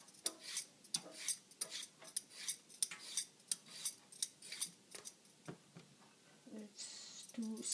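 Knife chopping a cucumber into cubes on a board, a steady run of crisp, close taps roughly every third of a second, with a few scraping sounds near the end and no talking.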